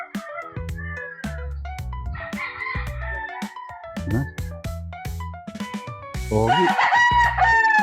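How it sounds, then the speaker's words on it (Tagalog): Several roosters, including Boston Roundhead gamefowl, crow loudly nearby on a farm, overlapping one another, while hens cluck in short bursts throughout; a voice briefly speaks. "Pero marami din ako manok dito."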